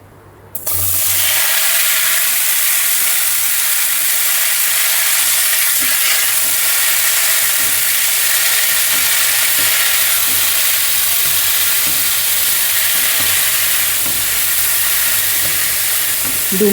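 Bottle gourd and prawns fry in a pan with a loud, steady, continuous sizzle and hiss that lasts throughout, with faint stirring scrapes beneath it.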